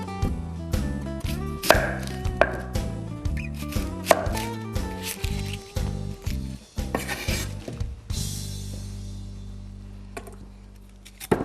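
Knife chopping through an onion on a cutting board, a quick run of sharp, close taps over the first eight seconds with music underneath, then the cutting stops and the music plays on alone.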